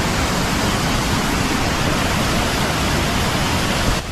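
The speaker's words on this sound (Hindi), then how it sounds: "पानी का शोर आप सुन सकते हैं यहाँ पे।" Mandakini river rushing hard over rocks in the Himalayas near Rambara bridge on the Kedarnath trek, a dense, steady roar of whitewater that stays loud and constant throughout with no voices.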